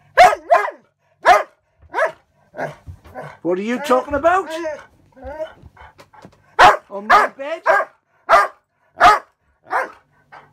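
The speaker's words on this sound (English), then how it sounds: "Why are you barking on my bed?" A Red Setter barks repeatedly in sharp bursts on a bed aboard a boat, with a stretch of whiny, drawn-out yowls in the middle, while a person talks between barks.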